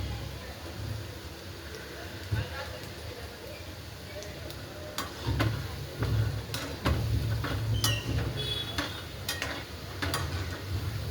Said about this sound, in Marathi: बारीक गॅसवर असे छान असे तळून घ्यायचे